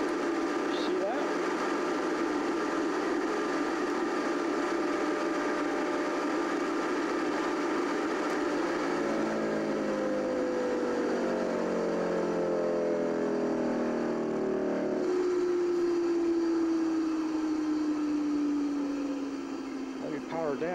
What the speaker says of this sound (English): notice the phase firing when we start this motor up